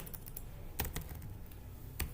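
Typing on a computer keyboard while filling in a CRM form, scattered key taps of varying strength over a constant low background hum, with no voices.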